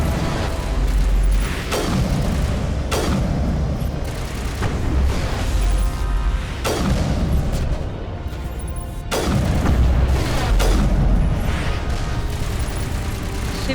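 Gunfire from the Mass Effect video game comes as heavy booming shots every couple of seconds. Each shot is loud and close, with a deep low thump, over a constant rumbling battle bed.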